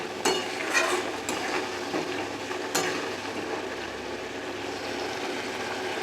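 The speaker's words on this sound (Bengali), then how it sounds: "আর আলুটা মশলা দিয়ে ভালো করে কষে নিচ্ছি" Potatoes are sautéed with spices in a pan with a steady frying hiss, broken by a few sharp utensil scrapes and clinks near the start.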